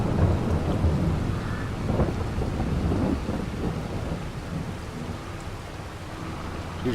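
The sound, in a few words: thunderstorm in video game Farming Simulator 22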